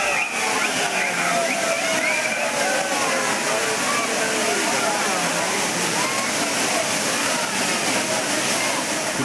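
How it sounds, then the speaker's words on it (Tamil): Heavy continuous roar of Courtallam's main waterfall pouring at moderate flow, with tourists bathing and splashing in it during the Kaanum Pongal holiday; steady broadband rush throughout with a busy murmur of crowd voices underneath. "அருவியில் மிதமான நீர்வரத்து கொட்டி வரும் நிலையில் சுற்றுலா பயணிகள் தங்கள் குடும்பத்தினருடன் உற்சாக"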